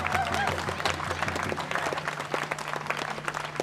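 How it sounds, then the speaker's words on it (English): Audience applause at an outdoor music festival on the Hudson River, a steady dense wash of clapping from a crowd held throughout, loud and close. "Let's have another round of applause for Oren Lyons."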